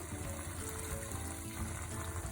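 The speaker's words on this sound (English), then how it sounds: "I'm just going to add some pasta water" Steady splashing pour of pasta water into a pot of green curry pasta sauce, a continuous watery gush with no talking over it.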